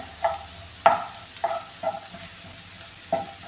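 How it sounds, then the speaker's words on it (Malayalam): Chinese potato stir-fry with Kashmiri chili powder stirred in a hot pan, a low sizzle broken by about five sharp scraping strokes of a spoon, close and moderately quiet. "ഇത് നന്നായിട്ട് ഒന്ന് മിക്സ് ചെയ്ത് കൊടുക്കാണ് ചൂടാക്കി കൊടുക്കാം ഇത്"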